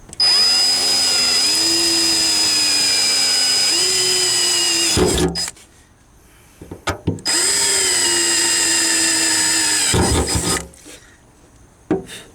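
A power drill whirs loudly as it pre-drills a hole while rock lights are installed on a Jeep Wrangler, boring into wood for several seconds, stopping, then spinning up again for a second long burst.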